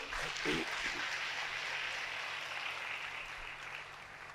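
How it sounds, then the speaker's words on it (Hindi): An audience at a Guru Purnima initiation gathering claps in a faint, steady wash of applause heard from a distance, with a low hum underneath throughout. "बहुत जोरदार तालियां इनके लिए।"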